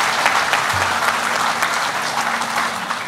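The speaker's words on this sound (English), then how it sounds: "If y'all would, give him a round of applause." Audience clapping at the Choctaw Nation campus headquarters grand opening, a dense, loud, sustained round of applause from a crowd lasting the whole stretch.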